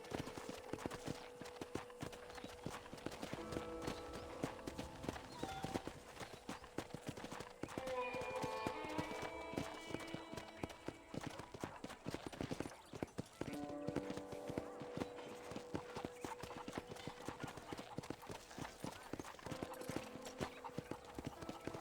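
Horse hooves clip-clopping at a trot in the video game Red Dead Redemption, rhythmic and fairly close, with brief whinnies and game character dialogue and background music over the hoofbeats.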